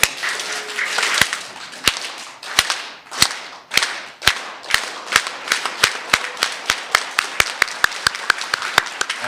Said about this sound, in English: we're going to enter in a slow, dramatic clap